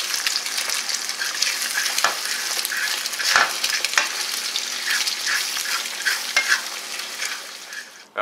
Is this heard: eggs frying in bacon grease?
yes